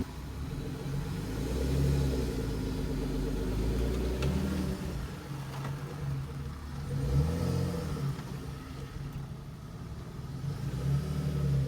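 A fully warmed-up car fitted with an AFR gauge drives along, its engine droning steadily with rising and falling revs as it accelerates and shifts, close and continuous with no talking.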